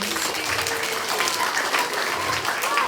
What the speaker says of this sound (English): Give those people a big round of applause